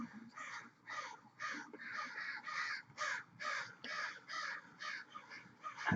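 Crows caw repeatedly just outside, a run of about a dozen harsh, evenly spaced calls heard through a wall or window, moderately distant and fairly faint.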